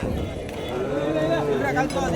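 Cows and calves at the Matrapalli cattle market make a low lowing call amid a dense, steady crowd din.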